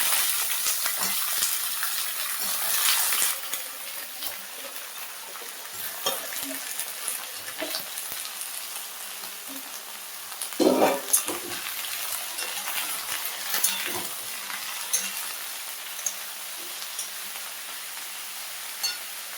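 Brinjal pieces with turmeric and salt fry and get stirred in a pan for a thankuni leaf dish, giving a steady close sizzle with scraping spoon clinks, louder around the middle.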